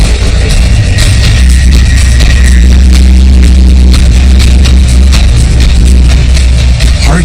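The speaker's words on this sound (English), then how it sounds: "His Pulsar sounds came from the SETI Institute" Vela pulsar radio signal converted to sound, heard as a loud, steady rapid pulsing throb over a dense static-like wash, continuous for several seconds with no voices.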